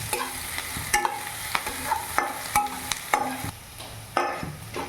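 Onions sizzling in a pan as a spatula stirs them repeatedly, sharp scraping strikes recurring every second or so over a steady close frying hiss, with no voices.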